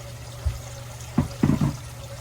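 Water runs and splashes in a kitchen sink while vegetable soup is being prepared, a few short bursts and gurgles against a low steady hum, fairly quiet with no speech.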